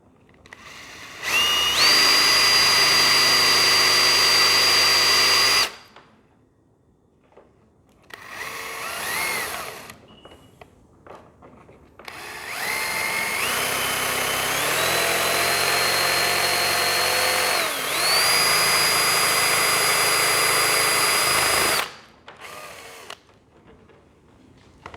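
Power tool cutting strong wood while building a Hangar 9 Ultra Stick 60-inch model airplane, two long loud whining bursts with a shorter one between, pitch dipping and recovering under load, separated by near-quiet gaps.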